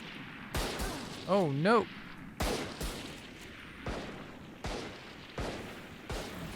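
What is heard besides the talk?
gunshots in the video game Valorant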